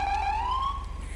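A California Highway Patrol police siren in the video game GTA 5 wails in a rising tone, loud and close, over a steady low engine hum.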